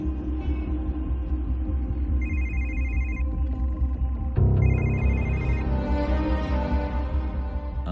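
A telephone rings unanswered in a film scene: two bursts of electronic ringing, each lasting about a second, over a steady low hum, with a dull thud between them.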